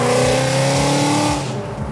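A 1200 hp Hennessey-tuned Shelby GT500 in track mode pulls hard in second gear at partial throttle, its engine roaring loud and close and climbing in pitch before easing off at the end.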